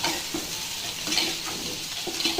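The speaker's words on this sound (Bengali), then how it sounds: "মাছ কষিয়ে নিয়ে মাছ উঠিয়ে রেখে এখন ফুলকপি দিয়ে দিলাম।" Cauliflower sautéing in a pan with a fish curry in progress, a steady close sizzle and fry hiss broken by a few soft stirring scrapes and light clinks of a utensil against the pan, no voices.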